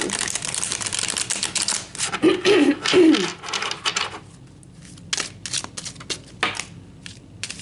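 Tarot cards being shuffled and pulled from the deck, close and crisp riffling and flicking in quick bursts, then sparser snaps and slides as single cards come out, with no talk.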